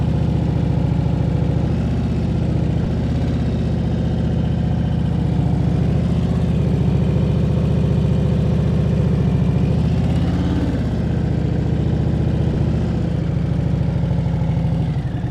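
A motorcycle engine held at low steady revs through a slow, tight right turn with throttle blips and clutch work, a continuous near idle-like hum with slight rises and dips.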